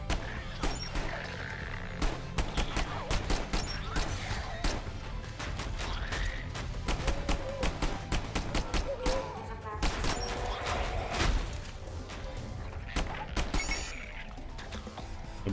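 Dense, rapid gunfire from the video game Sentry, near-continuous bursts of shots and impacts layered with mechanical clatter and crashes, loud and sustained throughout.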